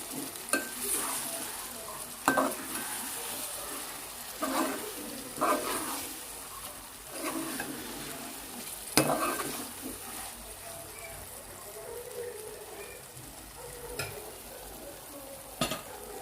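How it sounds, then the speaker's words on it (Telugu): Masala brinjal frying in a pan is stirred with a spoon, a steady close sizzle broken by repeated scraping and clinking strokes against the pan at irregular intervals. "ఒకసారి కలుపుకుందామండి అంతా కలిసిపోయేలా కలుపుకుందామండి"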